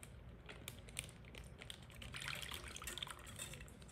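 Liquid bacon cure for smoked maple bourbon bacon is poured into a Ziploc bag, a faint steady trickle and splash with small crinkles from the plastic and no talking.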